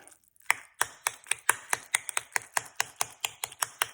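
Guacamole being mixed with lime in a bowl: a quick, even series of about fifteen sharp taps and knocks, close and moderately loud, with no talking.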